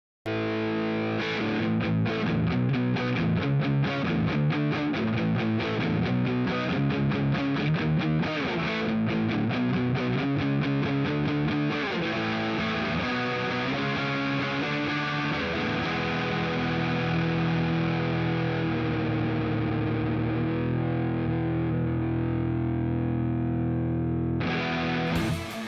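A Chord CAL64 budget electric guitar played through its pickups with distortion and effects, strumming chords and picking dense runs loudly and continuously before settling into sustained ringing chords.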